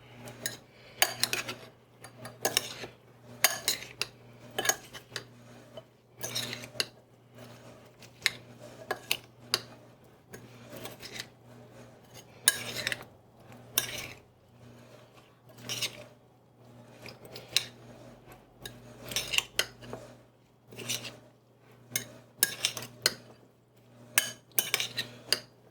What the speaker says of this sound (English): And then we need to stir and mix together well.